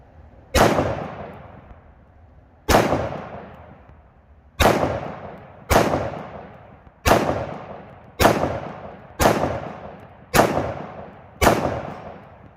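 Nine loud gunshots ring out from a Nighthawk Custom 5-inch 1911 pistol firing .45 ACP rounds at an outdoor range, evenly spaced about a second or two apart. Each sharp crack is followed by a short decaying echo, with no voices.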